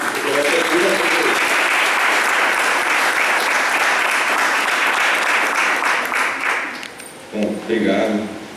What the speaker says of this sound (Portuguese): Eu queria então que vocês dessem uma salva de palmas para ele